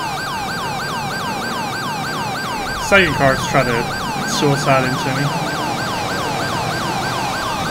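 Police sirens in the LSPDFR video game, several wailing sirens cycling continuously and overlapping at close range, with someone talking briefly over them midway.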